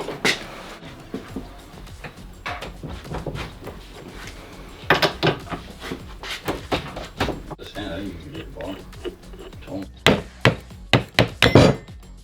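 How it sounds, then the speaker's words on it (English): Tools clank and knock against a metal differential as someone loosens the ring gear bolts on a Jeep Dana 30, with repeated sharp metallic hits and rattles close up, mixed with a person talking. "So I'm about to loosen off all the ring gear bolts."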